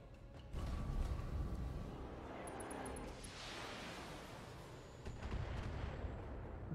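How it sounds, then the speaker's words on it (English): A missile barrage strikes targets in the Battletech mech combat game, a loud, rumbling wash of overlapping impacts and booms that swells, settles into a sustained roar, and then surges again. "That was more than zero missiles, boss lady."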